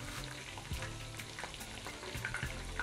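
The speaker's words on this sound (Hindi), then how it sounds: "अब क्रिस्पी होने तक मैं इसको फ्राई कर लूँगी।" Chicken pieces fry in hot oil with a dense, continuous sizzle and crackle, close and steady, with small pops scattered throughout.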